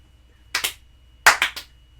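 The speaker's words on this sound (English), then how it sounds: "Gotta get a slow clap for that" A slow, deliberate clap done as a mock golf clap: two small groups of sharp, close hand claps, two quick claps then a pause and three more, against a quiet background.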